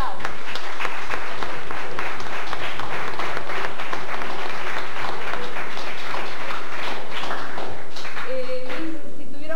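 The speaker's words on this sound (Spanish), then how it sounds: "que lo vamos a recibir con un aplauso." A studio audience at a radio theatre talk event gives a welcoming round of applause for a guest, loud and sustained, and it tapers off as a voice begins speaking near the end.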